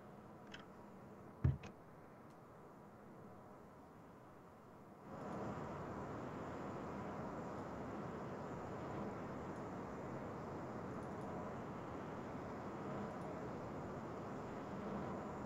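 A computer fan whirs up partway through and settles into a loud, steady broadband whoosh that continues unchanged. Before it starts there is only a quieter hum and a single click.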